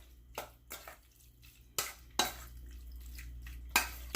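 Galunggong fish seasoned with salt, black pepper and vinegar is mixed in a bowl: quiet, scattered clinks and taps of a utensil against the dish, with a few louder knocks.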